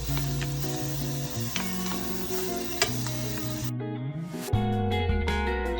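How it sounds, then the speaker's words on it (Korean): Clams cook in a preheated pot with cooking oil and a few drops of sesame oil over medium heat, sizzling loudly and steadily, with scattered pops and the clatter of stirring throughout. "중불에 바지락을 먼저 익혀주세요."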